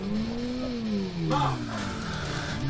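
Car engine revving and accelerating in an Amiga racing game, a synthetic droning tone sliding in pitch, steady and moderately quiet under faint background noise.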